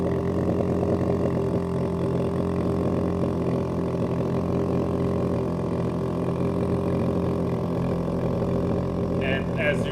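A portable air pump runs steadily to inflate an air-actuated bath lift, a continuous loud motor drone with a low hum that holds unchanged for the whole stretch.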